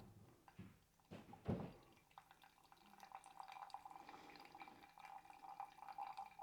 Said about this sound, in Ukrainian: І тепер заливаємо повну спіраль до 200 грамів.